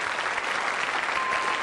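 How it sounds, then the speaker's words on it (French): Steady, dense studio-audience applause on a French TV quiz show, Questions pour un champion, filling the whole moment at an even, loud level with no voices over it. "pour Jean-Marc, applaudissements, Jean-Marc, 4 points"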